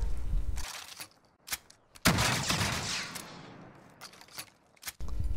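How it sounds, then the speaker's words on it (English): Shotgun blasts from a 725 Olympia in Modern Warfare hitting a riot shield: one big loud boom near the middle, scattered sharper shots before and after, and a final blast at the end. "The next gun is the 725 Olympia shotgun, and I am shooting."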